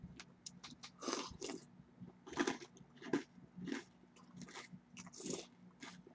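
Crunchy Cookie Crisp cereal being bitten and chewed close up, a run of loud crisp crunches in an uneven rhythm of about eight or nine chomps, with no talking.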